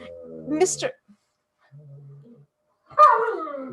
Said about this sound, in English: Mr. Q seems to have returned from the toast at Burns Tavern and is arguing with the dog.